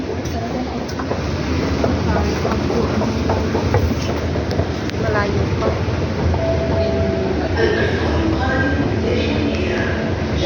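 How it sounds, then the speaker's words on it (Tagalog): A Riyadh Metro train rumbles loudly from inside a carriage, steady wheel noise and clatter throughout, with a person briefly speaking and faint squeals over the din. "Baba na, sakay ulit ng tren."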